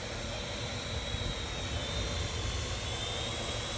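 Parrot drone hovering outdoors in the wind, a steady high-pitched rotor whine and buzz holding constant over a breezy rush, with no talking.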